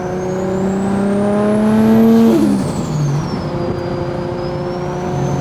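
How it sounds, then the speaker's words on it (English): Nissan Silvia fitted with a GT-R engine, turbo induction whooshing as the engine revs up and then drops back, a rising pitched whistle over a steady motor drone, heard close and fairly loud with no talking. "I love the induction noise on it."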